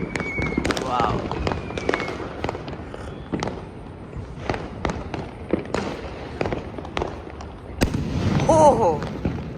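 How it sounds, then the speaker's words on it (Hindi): Diwali firecrackers crack and pop all around, some sharp and close, others distant, with scattered bursts and whistles over several seconds while people talk and exclaim nearby. "चारों तरफ पटाखे पटाखे।"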